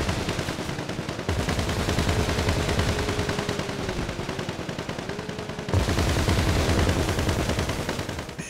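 Sustained automatic gunfire in Grand Theft Auto V, dense rapid rattling bursts in a continuous volley with a brief pause near the start and a louder surge later, close and steady with no talking.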